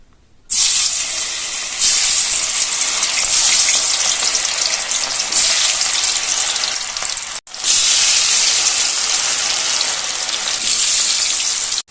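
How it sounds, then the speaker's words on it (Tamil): Cauliflower pieces frying in hot oil in a kadai: a loud, dense sizzle and hiss that starts abruptly, cuts out briefly partway through, then surges back just as strongly, heard alone without voices. "ஒரு கடாய் வச்சு எண்ணெய் ஊற்றி வச்சிருக்கேங்க. எண்ணெயுமே நல்லா சூடாயிருச்சு. இப்போ இதில் ஒவ்வொரு காலிஃபிளவரா போட்டுக்கலாம்."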